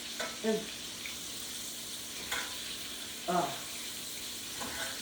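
Smoky Cajun chicken breasts sizzle in a pan with a steady broadband hiss, broken by a few brief clatters and what may be short bursts of voice.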